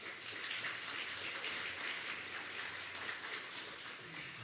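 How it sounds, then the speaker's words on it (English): Applause from an audience at a City Club candidates forum, a steady, dense patter of many hands clapping at an even level throughout, with no talk over it. "So a big round of applause and thank you to the Chamber of Commerce."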